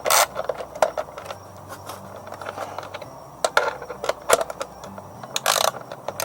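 Socket ratchet clicking as it tightens small bolts on a 2002 Ford F-250 during a plenum install, short bursts of ratcheting clicks with brief pauses and a few metallic knocks, close and clear.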